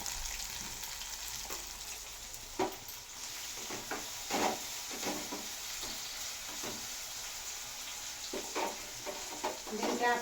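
Onions frying in a pan with a little salt for chicken curry, a steady close sizzle broken by scattered clicks and scrapes of stirring, with faint talk now and then.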